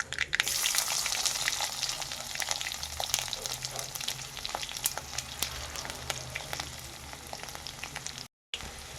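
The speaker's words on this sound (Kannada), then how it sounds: "ಈಗ ಇದಕ್ಕೆ ಜಜ್ಜಿ ಇಟ್ಕೊಂಡಿರ್ತಕ್ಕಂಥ ಬೆಳ್ಳುಳ್ಳಿನ ಹಾಕ್ತಾ ಇದ್ದೀನಿ" Crushed garlic fries with spluttering mustard seeds in hot oil, producing a loud, steady sizzle dotted with sharp pops and crackles throughout, with no talking.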